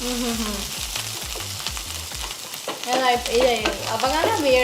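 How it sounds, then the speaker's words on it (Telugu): Spice powders with ginger and garlic frying in hot oil for a mutton kidney curry: a continuous close sizzle with rhythmic stirring scrapes in the pan, growing louder and busier toward the end. "ఈ పొళ్ళు అవన్నీ కూడా అల్లం వెల్లిపాయ ఇవన్నీ కూడా నూనెలో కొంచెం ఫ్రై అయితే మంచి టేస్ట్ ఉంటుంది"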